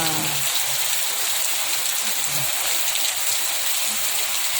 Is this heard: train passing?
no